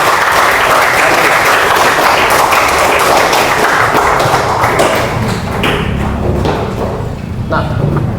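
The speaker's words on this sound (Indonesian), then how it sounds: "Jadi tepuk tangan sekali lagi untuk presentasi kita pada" A classroom audience applauds after a student presentation, a dense, loud, steady clapping that runs throughout with scattered thumps and taps mixed in, and faint voices in the background.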